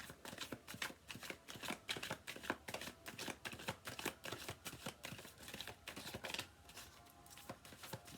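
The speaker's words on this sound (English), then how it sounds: "Let's give it a good shuffle here." A deck of tarot cards being shuffled close up, with rapid, irregular riffling and slapping bursts repeating steadily throughout and no voices.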